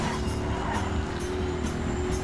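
Police car driven in the video game Battlefield Hardline, a steady loud engine drone with faint rumbling and tire noise throughout a brief stretch.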